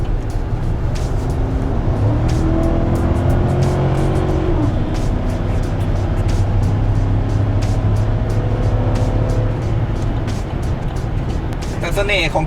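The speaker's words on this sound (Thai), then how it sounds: "เวลาเราเร่งรถแล้วเสียงมันจะแบบ ชัดเจนมาก นี่คือ V8 Power" A deep V8 engine in a 2017 Chevrolet Silverado LT Z71 pickup roars steadily as it accelerates onto a freeway, pitch climbing then settling, with road noise throughout and someone talking over it.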